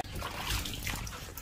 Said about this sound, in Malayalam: ഷാംപൂ ഇട്ട് കഴിഞ്ഞ് ഇനി നമ്മൾ വെള്ളം ഒഴിച്ച് ആ ഷാംപൂ കഴുകി കളയുവാണ്